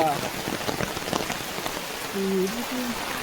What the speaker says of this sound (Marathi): पाऊस पडता जोरात.